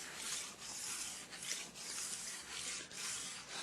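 A file strokes along the steel side edge of a ski in quick, rhythmic rasping passes, about six even strokes with brief gaps, close and fairly quiet with no talk.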